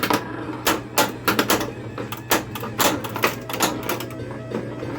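A 2002 Stern Playboy pinball machine in multi-ball play rattles with dense, loud clacks and knocks, rapid irregular flipper and ball hits over a steady mechanical hum.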